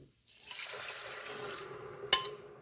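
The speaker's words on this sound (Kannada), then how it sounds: "ಒಂದು ಕಪ್ಪಿಗೆ ಅರ್ಧ ಕಪ್ ಆ ಲೆಕ್ಕದ್ರಿಂದ ನೀರು ಹಾಕೋಬೇಕು." Water poured steadily into a pot of soaked rice for Jeera rice, a continuous soft close trickle lasting a couple of seconds, ending with a brief clink.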